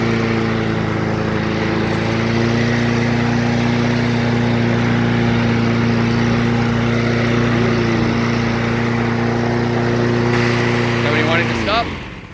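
Husqvarna LC 221A self-propelled lawn mower with a Honda engine, driving under a loud, steady engine drone that holds an even pitch, then cuts off abruptly near the end.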